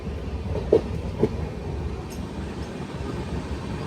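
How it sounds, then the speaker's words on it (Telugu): Steady rumble of the Narasapuram Express passenger train running on rails, heard from inside as a continuous broadband roar with a couple of brief knocks and no talking. "మన నరసాపురం ఎక్స్ప్రెస్ సూపర్ ఉంటుంది."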